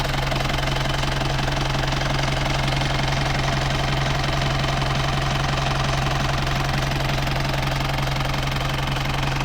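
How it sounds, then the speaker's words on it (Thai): A 1994 Isuzu TFR pickup truck engine idles steadily and smoothly with a low rhythmic knock, continuous and close, with no voices. "เสียงเครื่องยนต์แบบนิ่มๆเลยนะ"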